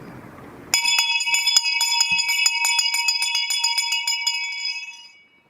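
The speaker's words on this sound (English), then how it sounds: "Ring the bell." A single bell struck once rings out loud and clear in a community theatre performance, its bright metallic tone sustaining and slowly fading over several seconds with no talk.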